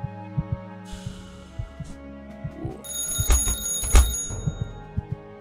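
A telephone rings indoors in a video game, its bright electronic trill sounding in bursts over a steady low background hum, with clicks and small thuds scattered around it.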